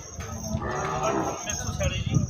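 Cattle at an animal market in Dhanaula, Barnala, with a cow lowing amid the crowd, under a busy background of people talking nearby.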